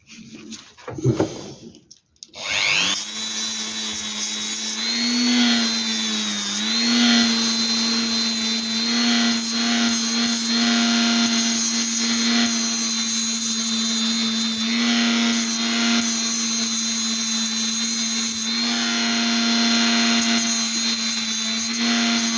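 A new diamond blade saw grinds through a raw siderolite meteorite, a loud continuous high-pitched whine and rasp that starts abruptly after a brief knock and holds steady, with slight shifts in pitch as the cut progresses.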